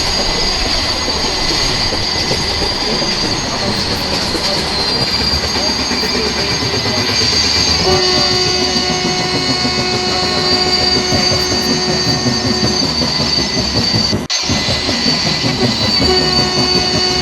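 Train with a double-decker coach rolling along rails at a station, a loud, steady rumble with rhythmic wheel clatter and metallic squeals, plus a sharp clunk near the end.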